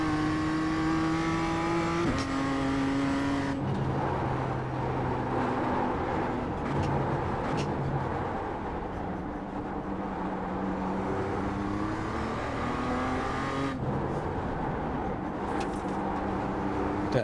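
A race car engine in a racing video game runs near full throttle, its pitch climbing steadily through the gears with brief dips at each shift, loud and continuous with no talk over it.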